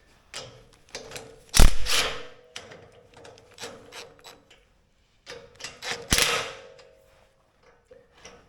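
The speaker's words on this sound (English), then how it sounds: "I'm gonna just loosen the bolts here a bit and retighten them" Bolts on a Frontier sawmill are loosened and retightened, with intermittent metallic ratcheting, scraping and clanking in short bursts separated by quiet pauses, fairly close and loud at times.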